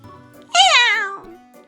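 A single drawn-out cat meow with a rising then falling pitch, clear and close, heard alone in a gap in a children's story reading.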